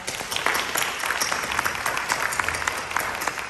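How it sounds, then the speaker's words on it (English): An audience at a FAFSA parent night gives a panel a round of applause, a dense, crackling burst of many hands clapping with individual claps standing out, fairly close and continuous, with no talking over it. "Please give our panel a round of applause."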